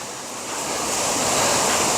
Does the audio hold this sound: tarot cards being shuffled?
no